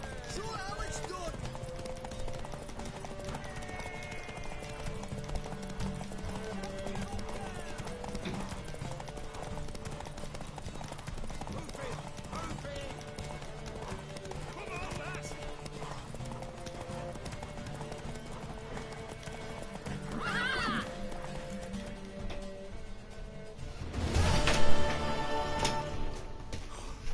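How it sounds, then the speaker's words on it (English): Horse hooves in the video game The Witcher clip-clop steadily throughout under game music and talking voices, building to a louder neigh and burst of movement near the end. "Want that horse, don't ya?"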